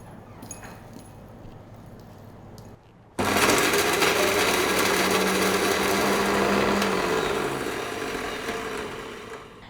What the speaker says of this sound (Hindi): जो मसाला मैंने भून लिया था अब मैं उसको ग्राइंड कर लूँगी